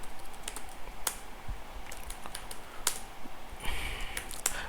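A terminal command is typed on a computer keyboard in a quick, uneven run of clicky keystrokes, close and clear, with no voices.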